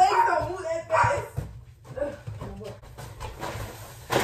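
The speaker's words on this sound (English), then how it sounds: "With Mojo, because he decided he wanted to bark" A dog gives a few short barks and yips amid indoor chatter, with people talking over and between the sounds.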